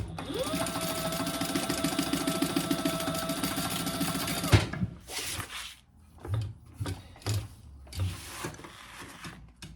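A sewing machine stitches pouch pockets in a fast, steady whirring run for about four seconds before stopping. Fabric is then handled with soft scattered rustles and bumps.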